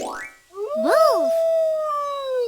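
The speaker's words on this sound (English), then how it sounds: "Wolf." A wolf howl from a children's animal-sounds sequence: one long rising and falling tonal cry that settles into a steady sustained note and fades slowly, heard close and clear with no talking.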